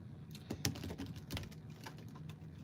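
A deck of tarot cards being shuffled close up, soft crisp riffling and tapping bursts in an irregular rhythm, quiet and alone without any talk.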